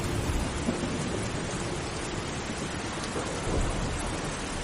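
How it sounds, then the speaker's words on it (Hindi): Heavy rain pours steadily in a thunderstorm near a village footbridge, a dense, continuous roar at close range with low rumbles of thunder beneath, no voices present. "माधव काका, लगता है इस बार की बारिश ये पुल नहीं झेल पाएगा।"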